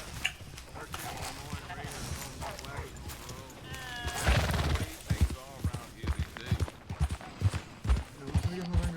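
Hooves clip-clop in quick, uneven beats alongside a brief horse whinny in Red Dead Redemption 2 on PS4, with voices talking over the game sounds throughout.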